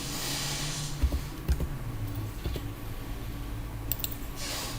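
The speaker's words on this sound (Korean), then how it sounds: "키보드 L을 눌러서 10" Scattered clicks and taps of keys pressed on a computer keyboard while drafting in Mastercam X8 CAM software, a few sharp presses over a steady background hiss, with no talking.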